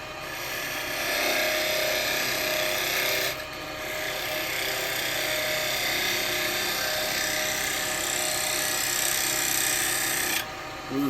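A round carbide chisel cutting an ash bowl on a wood lathe gives a continuous, loud, close rasping scrape with a steady spinning drone, easing briefly twice before resuming.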